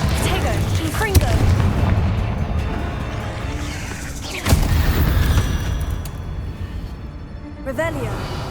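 Confringo explosive spell in Hogwarts Legacy, with a dense rumbling backdrop and a sharp blast near the middle, under steady game music, effects and talk.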